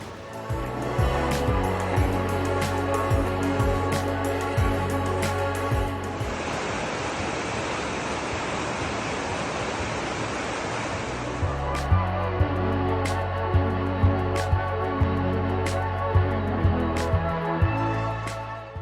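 Caldera River in Boquete, Panama rushes in a steady loud broadband roar for several seconds, set between stretches of music.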